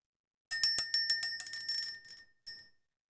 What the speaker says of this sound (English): We're going to go ahead and ring the bell.